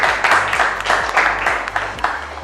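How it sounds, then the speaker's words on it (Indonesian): Classroom applause from students after a group presentation, a burst of many hands clapping loudly and fairly close, a dense irregular patter that rises and dips over a couple of seconds. "beri tepuk tangan"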